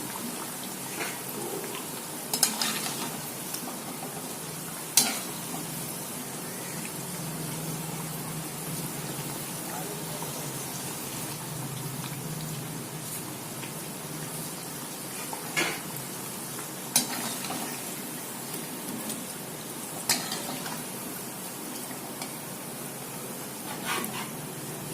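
Kari vadai (Tamil chicken fritters) fry over a low flame, a soft, steady crackling sizzle, with occasional sharp pops and clinks from a utensil, and no one speaking.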